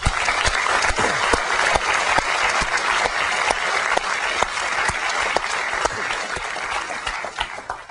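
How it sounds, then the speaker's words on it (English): An audience at a 2001 Apple special event launching the white iBook applauds the engineering and marketing teams, a sustained, even round of clapping from a large crowd that tapers slightly toward the end. "And I'd just like to give them a round of applause."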